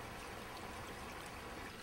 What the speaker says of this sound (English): Notice how evenly the water flows over all of the media.